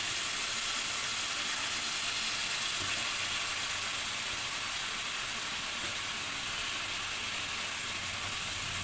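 Sliced onions hit a hot pan while a Kerala-style chicken roast curry is being made, giving a steady, even sizzle and hiss that carries on unbroken with no talking.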